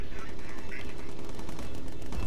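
Rapid gunfire from aircraft guns in the bomber video game Bomber Crew, a dense continuous rattle of shots filling the whole moment, loud and close with a low rumble beneath.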